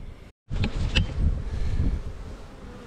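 Honeybees hum around beehives on a winter day, a low, uneven buzz heavily mixed with gusty wind rumble on the microphone, broken by a brief dropout near the start.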